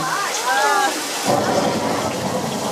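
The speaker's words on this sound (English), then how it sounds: "To create the rain, we use an overhead sprinkler system" Steady hiss of artificial rain falling from an overhead sprinkler system on one side of a studio tour tram at Universal Studios Hollywood, starting partway through and continuing loudly, with voices talking in the background.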